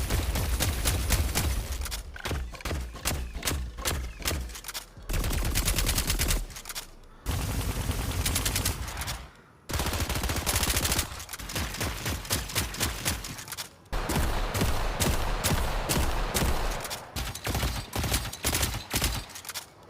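Loud, close gunfire from the video game Deadlock, fired in rapid automatic bursts broken by short gaps, as when an opponent runs low on ammo; no voices.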